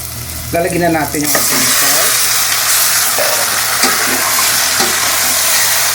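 Onion and garlic fry in a hot pan with a loud, continuous sizzle, briefly broken at the start by a scraping stir before the hiss settles into a steady crackle.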